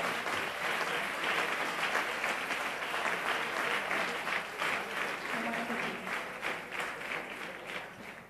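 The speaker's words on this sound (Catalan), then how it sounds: "un fort aplaudiment per als obrers d'etiqueta" A festival audience at a Falles letters celebration breaks into sustained applause, a dense wash of many hands clapping at an even level throughout, heard from some distance in a reverberant crowd space.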